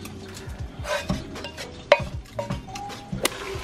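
Onion added to a pan and stirred while making an eggless potato tortilla, bringing a few sharp clanks of utensil on metal and scraping strokes over a low sizzle, close up, with no speech.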